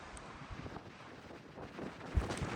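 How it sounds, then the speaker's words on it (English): A strong night wind gust buffets the microphone outdoors atop a tree, a steady rushing roar that swells into a louder blast near the end, with no talking. "This is some of the craziest wind I've felt in a while."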